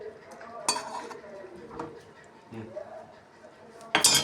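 Ground cumin and fenugreek powder stirred into a cooking pan, with a few close metallic scrapes and clinks of a spoon against the pan, separated by quieter stretches.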